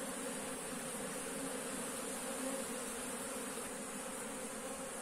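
Honeybees buzzing at an opened hive during a colony split, a dense steady drone of many wings holding level throughout, close and continuous with no voices.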